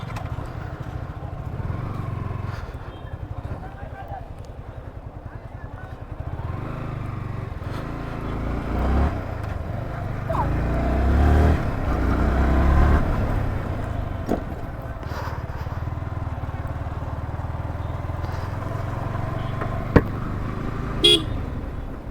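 A sports motorcycle such as a CBR runs near Dinajpur Government College, its engine idling steadily and close, swelling into louder revs midway, with a brief horn-like toot near the end.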